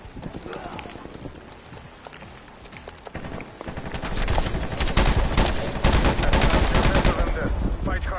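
Gunfire from the video game Call of Duty Cold War: rapid automatic bursts and single shots build in intensity, growing loud and dense in the second half, with voices talking over the action.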